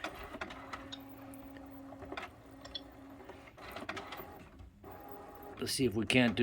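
HP 6520 inkjet printer printing a print quality report, quiet mechanical whirring and clicking with short motor runs, louder carriage and paper-feed churning at the end, with someone speaking nearby.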